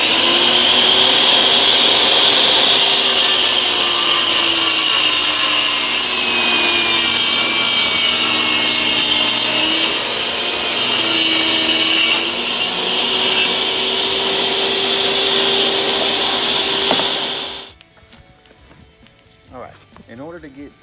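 Jigsaw cutting birch plywood with the blade tilted to an angle, a loud continuous buzzing saw with a wavering pitch for about seventeen seconds before stopping abruptly, leaving quiet room noise.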